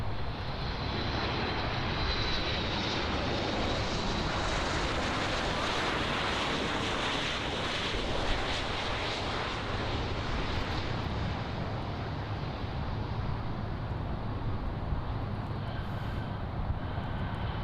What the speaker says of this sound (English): So next up on runway 9 is American Airlines flight AA448 from Guayaquil. This is operated by a Boeing 737 MAX 8.